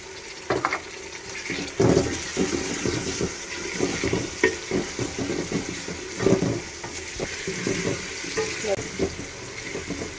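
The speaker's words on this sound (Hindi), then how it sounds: "जब अदरक लहसुन की खुशबू आने लग जाए अब इसके अंदर हम टमाटर और हरी मिर्ची डालेंगे" Tomato and green chillies frying with ginger and garlic in a pan, a continuous sizzle under repeated clinks and scrapes of stirring, with some watery splashing and faint background noise.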